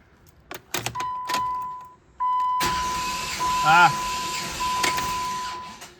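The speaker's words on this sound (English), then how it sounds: "Then I'm going to go back into the Jeep. Attempt to turn over." A Jeep engine cranks from about 2.6 s as a steady, loud, grinding starter whir that never catches, after some clicks and a thin electrical whine, with voices talking nearby.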